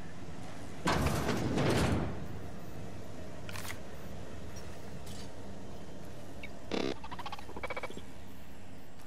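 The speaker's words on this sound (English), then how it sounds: "I'll get the door." A door in The Outer Worlds video game slides open with a loud mechanical whoosh lasting about a second, followed by quieter clicks and a second short burst later, with no talking.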